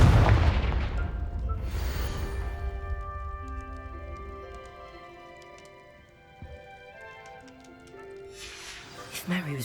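A Confringo blasting spell in Hogwarts Legacy erupts in a loud booming explosion that decays into a long fading rumble with shimmering tones, followed by a second burst near the end.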